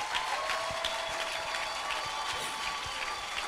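Steady dense clapping from a church conference audience fills the whole stretch, broad and continuous with no voices on top.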